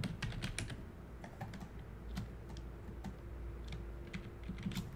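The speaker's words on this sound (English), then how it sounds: "once you already finished typing, just switch back to object mode" Someone types on a computer keyboard with quick, uneven clusters of light key clicks, close and steady over faint room noise.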